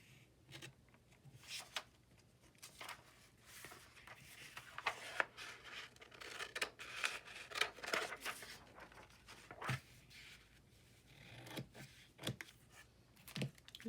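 Scissors snip through paper cut from mail envelopes during a collage craft project, giving close, irregular crisp snips and rustles alongside light handling of paper, with no talking.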